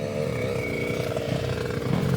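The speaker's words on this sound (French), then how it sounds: "Notre ami finlandais là qui fait chauffer son moteur, on l'entend bien." A Finnish rider's enduro motorcycle engine warming up at a world team enduro championship event in La Bastide, Lozère: a steady, loud buzzing idle with a rough rattling texture, close and continuous.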